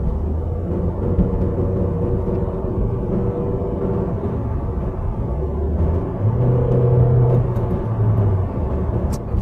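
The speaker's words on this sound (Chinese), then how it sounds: "还有发动机的声音，它排气的声音都特低沉" Volkswagen Passat B5 engine and exhaust giving a deep, steady low rumble while driving, with constant road and chassis noise underneath, close and continuous throughout.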